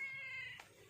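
A single cat meow, drawn-out and tonal, heard up close with no one talking.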